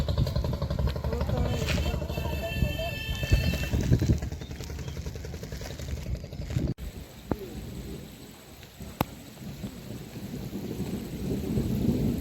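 Heavy rain pours steadily in the Sundarbans, a dense, even hiss with low thunder rumbling beneath it and one sharp crack partway through.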